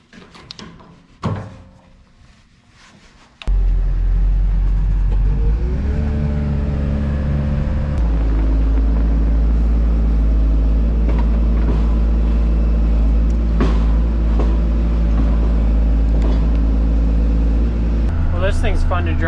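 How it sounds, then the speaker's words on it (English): A New Holland loader tractor on a farm: its diesel engine fires up and then drones loud and steady nearby, with faint clunks and noises before it starts. "Thing's fun to drive around with."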